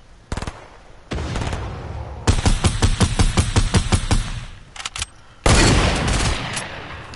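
Gunfire in a video game, with a few single shots, then a rapid burst of close automatic fire and a long loud spray near the end.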